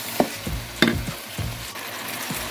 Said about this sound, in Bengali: এখন যে আমি ধুয়ে রেখে দিয়েছিলাম সবজি, সেটা মশলার মধ্যে প্রথমে দিয়ে দিচ্ছি।